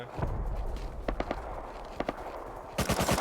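Gunfire in the survival game Rust: scattered sharp shots and short bursts ring out over shuffling footsteps, ending in a rapid close volley of fire.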